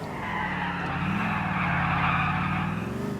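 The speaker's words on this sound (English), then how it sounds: "You can do handbrake turns that look really sick like that. Like you can drift really easily" A car in Grand Theft Auto 4 pulls a handbrake turn, its tires skidding and squealing in one steady, loud drift over a continuous engine drone.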